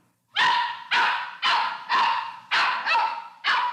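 A dog barks seven times in a steady, evenly spaced series, loud and close, with short silences between barks. It is a sound effect in a 1957 CBS Radio Workshop drama.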